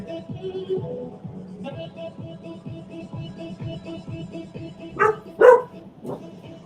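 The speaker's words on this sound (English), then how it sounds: "Man, that wasn't Coco barking, was it?" A dog gives a couple of sharp barks near the end, over a steady low hum with faint background sounds.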